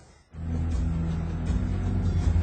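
Road traffic in central Brussels, moving past grand buildings and monuments: a steady close rumble of car engines swells in after a brief quiet start and holds, with low engine hum and passing vehicles throughout.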